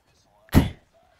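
A single sharp gunshot or blast in the mobile shooter Call of Duty Mobile, a loud percussive burst with a short decaying tail, standing alone between quiet moments.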